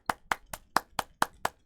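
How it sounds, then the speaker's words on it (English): Seven crisp hand claps at an even, quick pace, each a sharp close slap with a short decay and near silence between them. "Now clap your hands."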